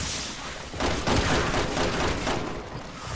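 Gunfire in the video game Resident Evil 6, a dense burst of rapid shots over about two seconds, moderately loud and alone without talk.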